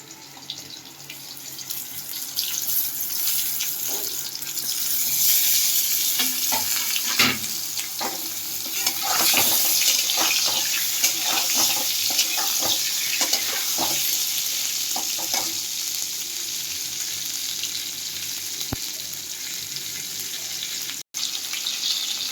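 Eggplant pieces fry in a pan for a hilsa fish curry, giving a loud, continuous, close sizzle with intermittent stirring scrapes and crackles that runs steadily throughout.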